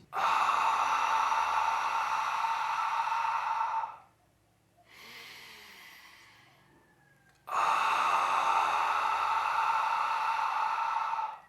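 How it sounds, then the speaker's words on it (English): Two long, loud, raspy ujjayi breaths drawn through a narrowed throat, ocean-like, separated by a softer, quieter breath in between. "We're going to restrict the flux of air coming out of the throat by closing down the throat."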